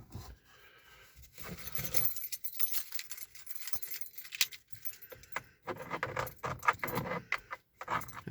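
Keys jangle and clink in bursts over several seconds as someone rummages for them in the dark, with metallic scrapes and rattles rising and falling close by.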